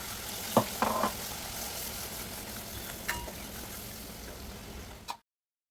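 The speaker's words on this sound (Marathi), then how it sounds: "वाटण मिक्स करून घ्यायचं आहे." Masala paste being stirred into frying chicken on a low gas flame, a steady close sizzle with a few sharp scrapes of the spoon early on and near the end, no talking.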